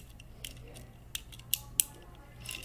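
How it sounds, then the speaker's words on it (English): Plastic fidget pad buttons clicking, a handful of sharp, brief clicks scattered irregularly over a low steady hum, fairly close and moderately loud, with no talking. "So I got this fidget pad. If you don't know what these are, these just like click."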